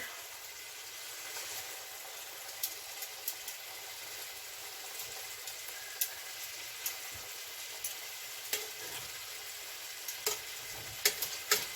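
Pork chops fry in a pan with a soft, continuous sizzle, broken by faint crackles and small pops, heard alone at low level.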